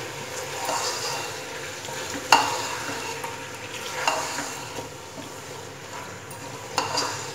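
Mutton with black pepper being stirred in a pot, with a steady sizzle from the frying meat and a few sharper scraping knocks of the spoon against the pot at intervals.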